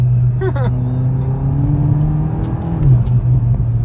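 A Volkswagen Golf GTI Clubsport accelerates, its engine and exhaust rising in a loud, close, steady drone that climbs in pitch as the car pulls through the gear, with a brief voice near the start.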